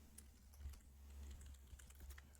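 Quiet keystrokes on a computer keyboard, a short run of soft, irregular clicks at low volume with faint room hum beneath.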